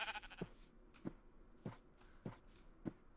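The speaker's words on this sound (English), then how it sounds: "Oh, it's a good sheep!" A sheep on a small farm bleats five times at a steady interval of roughly half a second to a second, each call short and fairly close, with no talking over it.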